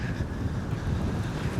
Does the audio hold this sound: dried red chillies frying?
no